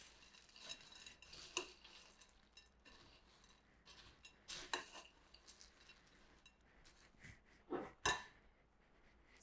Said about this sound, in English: Give it another good mix.